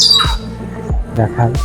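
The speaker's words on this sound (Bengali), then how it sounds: "আমরা আসার পরের থেকে এই পাখিটার ডাক শুনতে পাচ্ছি," A bird at a park zoo in Khulna's Bon Bilas zone calls loudly with repeated harsh squawks and a high whistled note, close by, as a person speaks briefly over it.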